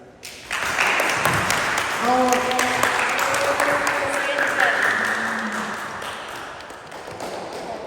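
An audience applauds teachers at a school basketball final between 8th and 9th grade classes, steady clapping filling the hall while tonal ringing and voices carry over it.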